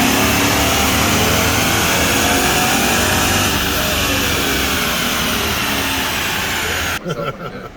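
A stock Chevrolet Silverado with a 5.3 V8 and a GM performance cam roars at sustained high revs on a dyno, loud and steady for about seven seconds before abruptly dropping off to a rough, lumpy idle.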